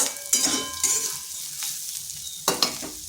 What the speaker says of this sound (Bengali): করলাটা এইভাবে ভেজে নিয়েছি।